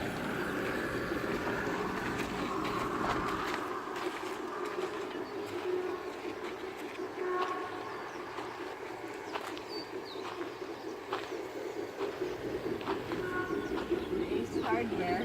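A train rolls past steadily with a continuous rumble and clatter, with faint bird calls mixed in under the moving cars.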